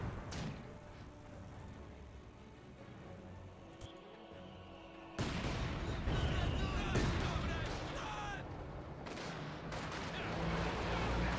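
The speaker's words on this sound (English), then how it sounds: "Here, Katusha barrage." Katyusha rocket barrage in Company of Heroes 2, a swelling rumble of launches and explosions that grows louder midway and keeps booming with dense impacts, while a commentator talks over the battle.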